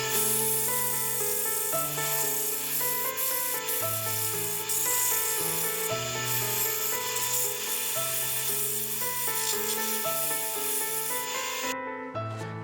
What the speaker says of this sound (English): what I'm going to do now is just sand that down a bit